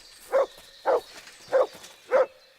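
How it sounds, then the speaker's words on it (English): A dog barking in the medieval video game Kingdom Come: Deliverance, four evenly spaced, moderately loud woofs against a quiet game ambience, with no talking over them. "You're barking at the thing I just finished looting?"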